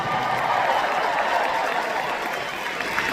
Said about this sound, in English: So give your own strings a huge round of applause